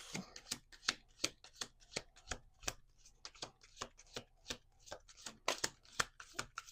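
Cards being shuffled up close: a long string of sharp, papery snaps and riffles in an uneven rhythm, with no voices.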